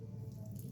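A little water poured into bajji batter, a brief, soft trickle and splash heard close and quiet, with no one speaking.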